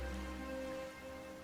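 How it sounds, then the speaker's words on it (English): Rain falling in the video game Genshin Impact, a soft, even patter heard alone and at low level, with a faint background tone running through it. "Why is it raining all of a sudden?"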